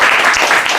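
Church congregation applauding during a Sunday service, a short, loud and dense wash of clapping with no talk over it.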